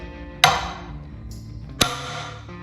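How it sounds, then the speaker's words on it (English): A sledgehammer strikes a hatchet driven into an Osage orange log to split it into bow staves, giving two sharp metallic clanks about a second and a half apart, each ringing briefly. "And then you get your sledge and you're going to smack this thing."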